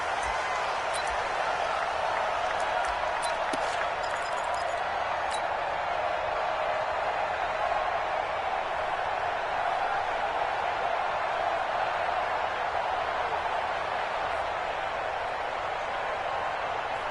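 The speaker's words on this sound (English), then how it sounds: "This crowd is ready as their guys get set to match up between the Chicago Bears and the Seattle Seahawks" A stadium crowd at a Chicago Bears versus Seattle Seahawks NFL game keeps up a steady, dense roar throughout, loud and enveloping, with a few faint ticks near the start and no clear voice standing out.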